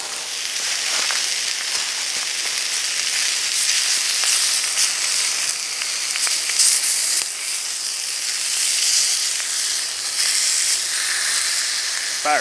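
Country ham fries in a pan over a hot campfire, a loud, steady sizzle and hiss carrying on without a break and without any talking.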